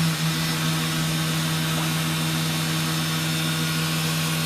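Spindle of a 2004 Fadal 4020HT vertical machining center running at speed, a steady, continuous whine with a strong low tone and broad mechanical hiss, close and unbroken throughout.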